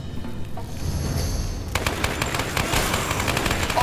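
Rapid automatic MP5 fire in the video game Lara Croft and the Temple of Osiris: after a quieter stretch of game ambience, a dense, continuous burst of gunshots sets in and holds loudly to the end.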